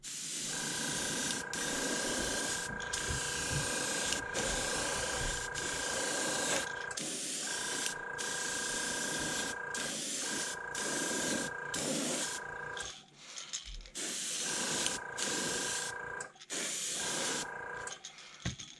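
Createx gloss top coat hisses as it is sprayed onto a deep diving fishing lure, in a long steady stream that breaks into a series of short bursts with brief pauses between them, close and clear.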